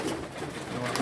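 High flyer and racing pigeons coo softly inside a loft cage, a low, gentle burbling close by with no voices over it.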